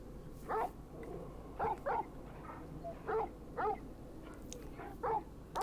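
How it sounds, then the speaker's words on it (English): Dog barking beside a wounded character in Final Fantasy XVI, a series of soft, short yips and whimpering barks spaced about a second apart over quiet ambience. "Dog's just barking in his ear."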